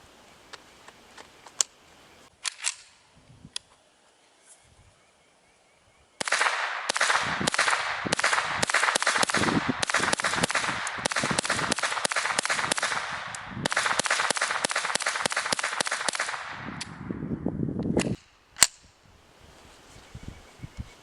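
Unsuppressed subsonic .22LR rounds fired from a Ruger 10/22 rifle give sharp, isolated cracks, with a long middle stretch of dense crackling noise in an otherwise quiet outdoor setting.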